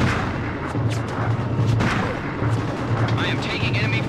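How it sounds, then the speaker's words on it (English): Enemy gunfire and artillery in the Mercenaries video game, a dense, loud barrage of booms and cracks that never lets up, with a voice faintly under the battle noise. "I am taking enemy fire"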